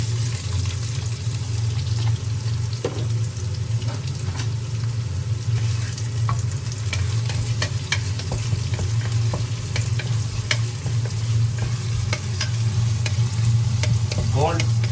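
Onion and curry leaves fry in hot oil for a Sri Lankan crab curry, a loud steady sizzle close by with frequent stirring scrapes and small pops throughout.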